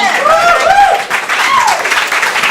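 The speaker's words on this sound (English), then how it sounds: "So everybody give a massive round of applause for Edmund." Audience applause and cheering for a stand-up comedian at a comedy show, a dense crowd clapping throughout with a voice calling out over it.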